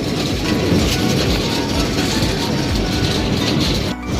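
Passenger train rolling along rails, heard from inside a carriage as a steady loud rumble with faint clickety-clack, continuous throughout before a brief dip at the end.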